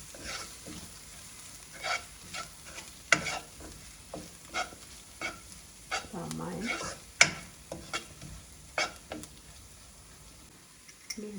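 A spoon scrapes and stirs through chicken curry frying with turmeric in a pot, giving a run of irregular clinks and scrapes over a soft sizzle, close and moderately loud.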